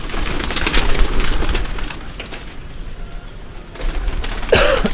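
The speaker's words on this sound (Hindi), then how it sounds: "ये सारा इनका ऊपर जो है उड़ाने वाले कबूतरों का ये सारा सिलसिला है" Pigeons bred for flying, kept on a rooftop coop, coo and flutter in a steady low murmur, with a brief burst of wing flapping near the end.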